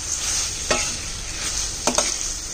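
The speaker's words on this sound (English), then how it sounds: "So we keep mixing" Tuna spaghetti with vegetables stirred in a pan, a constant close sizzle broken by a few quick scraping strokes.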